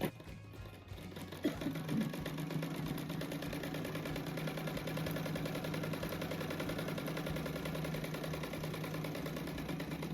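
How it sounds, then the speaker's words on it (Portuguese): A sewing machine runs a patchwork seam at presser-foot width, a close, steady rapid mechanical whir of stitching that continues without pause after a brief start. "Aqui eu faço uma costura à largura do pé da máquina"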